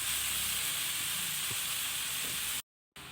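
Chopped fenugreek leaves dropped into a hot pan with onion, giving a steady hissing sizzle and faint stirring scrapes, then a brief cut to silence before the sizzle resumes.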